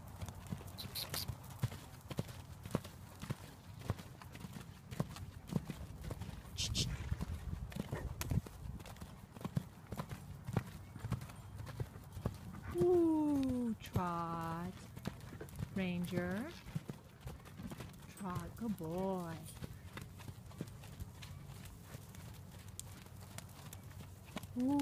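A 10-year-old 15.2-hand Quarter Horse canters, its hooves beating a steady rhythmic clip-clop on the ground throughout, with a person's voice calling out commands over the hoofbeats.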